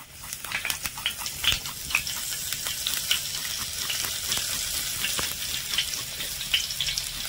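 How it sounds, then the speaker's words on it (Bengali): Panch phoron and grated ginger sizzle in hot oil as a close, continuous crackle. Sharp pops and spits burst out irregularly throughout. "তেলটা যখন গরম হয়ে আসবে দিয়ে দেব 1/2 টেবিল চামচ 5 ফোড়ন।"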